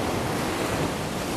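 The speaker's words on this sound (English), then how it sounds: "these waves do get a little bit aggressive every now and again." Sea waves at high spring tide on the shore at West Runton, Norfolk: a steady, loud broadband wash of surf with wind noise buffeting the microphone throughout, no clear individual breaks.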